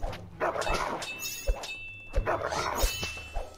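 Wolves in the Kingdom Rush tower defense game, a quick series of short snarling barks and yelps over busy game effects, a few sharp thumps and a ringing tone, moderately loud.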